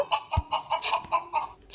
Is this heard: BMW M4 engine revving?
no